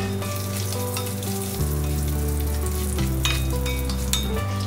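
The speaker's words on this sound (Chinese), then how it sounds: "好，现在变成金黄色，我就加上我的花椒、干辣椒" Sichuan peppercorns and dried chilies hit hot oil with golden garlic, a loud steady sizzle and crackle that swells as they go in, close and continuous with no talking.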